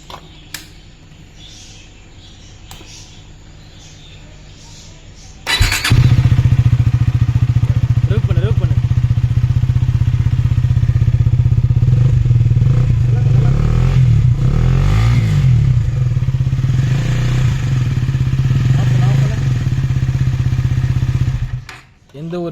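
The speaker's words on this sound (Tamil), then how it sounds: "வண்டி ஆன் பண்ணேன், எக்ஸாஸ்ட் நோட் கேட்குப்பா" A KTM Duke 250 motorcycle with an Akrapovic exhaust fires up after a few quiet seconds and settles into a loud, steady, throaty idle with a few brief revs, ending abruptly.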